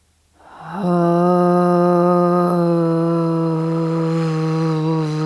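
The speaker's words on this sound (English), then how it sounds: "make a moaning, groaning, or any sort of sound out of your mouth" A long, steady voiced groan from one person, a low sustained tone held for several seconds after a quick breath in, close and fairly loud.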